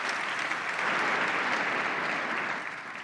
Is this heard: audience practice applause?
yes